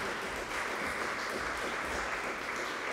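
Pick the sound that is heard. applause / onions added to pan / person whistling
applause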